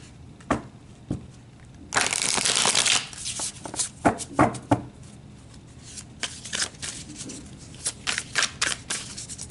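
Tarot cards riffled and shuffled by hand close up, a dense papery burst of flutter followed by scattered taps, slides and crisp snaps as the deck is handled.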